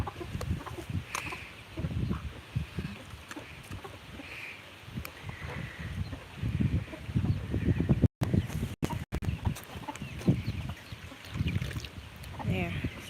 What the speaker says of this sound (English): She's got a lot of chickens.